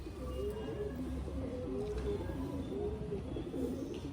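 Pigeons coo repeatedly in a rhythmic, low rolling pattern, close and steady over a constant background hum.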